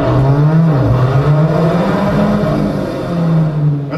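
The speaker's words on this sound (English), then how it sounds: "True Alfisti will immediately recognize the distinctive Alfa Romeo 4C exhaust note, produced by a specially tuned exhaust." A 2015 Alfa Romeo 4C Spider sports car at the Detroit Auto Show, its specially tuned exhaust bypassing the muffler, roars loudly and close up with a steady gargling growl that swells and dips with revving.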